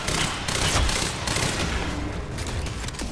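Advanced SMG firing in the video game Quantum Break, loud sustained bursts of rapid automatic gunfire rattling continuously for several seconds.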